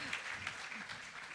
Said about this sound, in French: Tonnerre d'applaudissements pour Caroline Adam, mesdames et messieurs